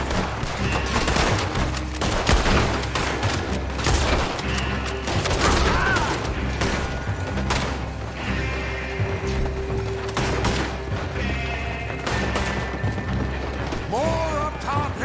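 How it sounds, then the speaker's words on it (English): Video game shootout with dense, continuous gunfire, overlapping rapid shots and booms, loud and close, mixed with shouting voices and game music throughout. "Gun them down!"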